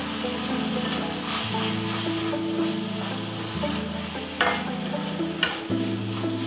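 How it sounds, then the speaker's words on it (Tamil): Beans, carrots and green peas stir in a hot pan, with a continuous sizzle and occasional scraping strokes of a spoon, steady and close. "பீன்ஸு, கேரட் இது எல்லாத்தையும் சேர்த்து கொஞ்சம் வதக்கிக்கலாம்."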